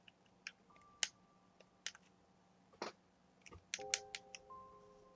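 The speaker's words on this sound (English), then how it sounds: "I'm clicking a button." Soft, scattered mouse or button clicks come through during a video game, The Hundred Line: Last Defense Academy, in a few small groups over quiet electronic game tones.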